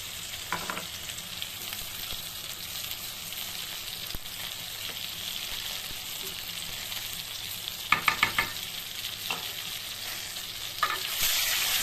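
Eggplant pieces fry in hot oil in a pan for a Bengali begun bahar, a steady close sizzle broken by a few brief scrapes of stirring.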